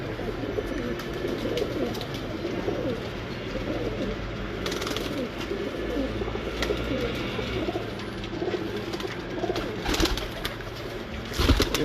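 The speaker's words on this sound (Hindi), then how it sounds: "देखिए जुगनू कबूतर है जी" Jugnu breed pigeons coo steadily in a low, rolling murmur, with several birds close by and faint chirps and background noise mixed in.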